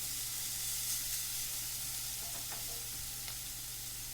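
Garlic and ginger sizzling in oil in a pan for teriyaki chicken, a steady, dense frying hiss throughout with occasional faint stirring clicks, close and continuous.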